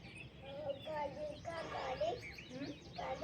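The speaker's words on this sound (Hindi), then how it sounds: "मॉर्निंग का जो चहचहाट होता है चिड़िया का, वो आप लोग भी सुन लीजिए" Small birds chirp and tweet in the morning in a village, a faint, quiet scatter of short calls heard from a distance.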